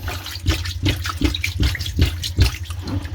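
Water from a washing machine with a drain problem sloshes and gurgles in rhythmic pulses, about eight splashy surges close by, with only a little water left draining.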